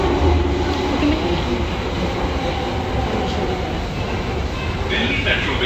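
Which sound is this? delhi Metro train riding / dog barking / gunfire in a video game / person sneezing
delhi Metro train riding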